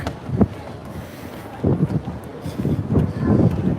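Gusty wind on a cruise ship deck buffets the microphone in uneven rumbling bursts, growing stronger toward the end, with a faint open-air hiss throughout.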